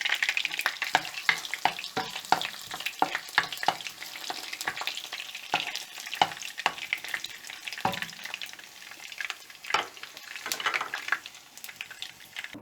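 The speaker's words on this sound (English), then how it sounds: "fry it, close it and fry it on slow flame for about 10 minutes" Masala with crushed garlic fries in hot oil for a shark fish curry, crackling steadily up close with a rapid run of spatters and occasional clinks of a spoon against the pan.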